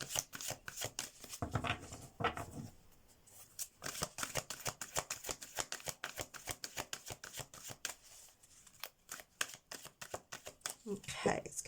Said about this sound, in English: Let's pull out some tarot cards